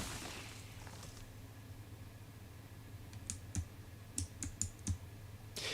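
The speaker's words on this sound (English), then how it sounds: "I feel like your quiet keyboard might be louder via the mic." A quiet computer keyboard picked up by a microphone, with a few soft scattered keystrokes and then a short cluster of sharper clicks over a steady low hum, fairly faint throughout.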